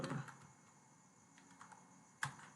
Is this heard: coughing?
no